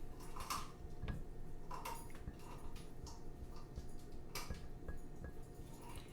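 A spoon stirring coffee in a cup makes faint light clinks and taps that repeat irregularly against a quiet kitchen background.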